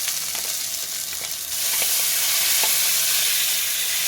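Onion paste and garlic paste are added to onions already frying in a pan for a Bengali fish curry, and the sizzle swells into a loud, continuous close hiss with faint stirring.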